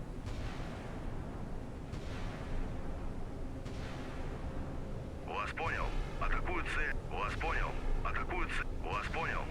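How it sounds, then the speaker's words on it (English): Guns of a Kirov cruiser firing in the naval video game Sea Power, with a burst of repeated, ringing gun reports in quick clusters after several seconds of low rumbling background, loud and fairly close, with some faint earlier thuds. "Kirov going at it with guns"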